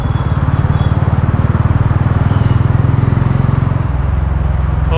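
A TVS Ronin 225 motorcycle cruises in a high gear at low speed, its single-cylinder engine thrumming in a steady, close, loud pulse that drops slightly near the end.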